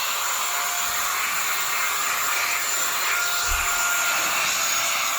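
An ATEngeus rechargeable cordless air duster blows a continuous, steady, loud rush of air close by, with no talking.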